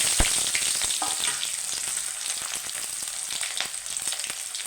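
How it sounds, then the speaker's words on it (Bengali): Crushed garlic and onions frying in hot oil, a steady dense sizzle with small crackles and occasional stirring, close and alone without any talk. "এবার ভালো করে তেলে একদম ভেজে নেব লাল করে"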